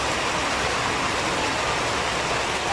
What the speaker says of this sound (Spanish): Si me escuchan gritando mucho, es que está lloviendo mucho.